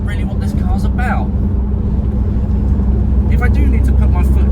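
A 1965 Rover P6 2000 with a 2-litre engine cruises at 45-50 mph, a loud, steady low engine and road drone heard from inside the cabin, with someone talking over it.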